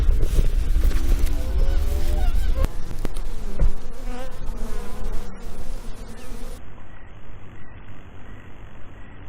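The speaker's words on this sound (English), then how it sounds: "Let's get a close-up of these bees if I can" Honeybees buzz around backyard beehives on a homestead bee farm, a close, steady drone with rising and falling harmonic tones as insects fly near, with a sharp knock partway through, then a quieter, thinner hum.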